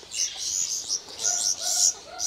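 Caged young birds kept at home chirp in quick, high bursts that overlap one another, close and fairly loud, with no one speaking.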